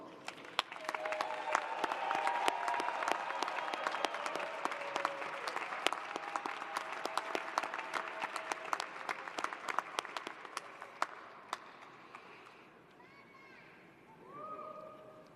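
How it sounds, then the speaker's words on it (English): Graduates at a doctoral hooding commencement applauding their families, a sustained wave of dense crowd clapping in a large hall that fades out near the end as a voice begins speaking. "salute them with your applause"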